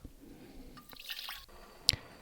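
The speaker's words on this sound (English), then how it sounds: "and putting water into a pressure cooker." Water goes into a pressure cooker while potatoes are prepared in a home kitchen, heard as faint, scattered drips and splashes with one sharp louder splash near the end, close by and with no talking.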